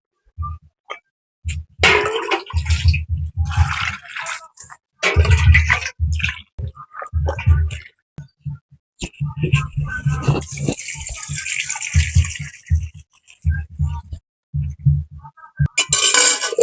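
Running water washes vegetables and potatoes for a fish and vegetable curry, with a rattle of pieces being scrubbed and tumbled in a bowl, loud and close, in repeated bursts with brief pauses.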